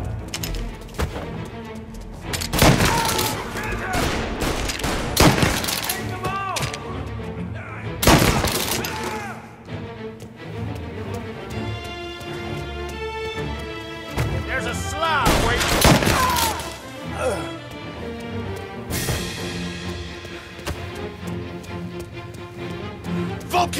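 Gunfire from a shootout in the Mafia Definitive Edition video game: loud volleys of shots in sharp bursts, with several dense clusters over a bed of game music and ambience, and voices heard briefly in between.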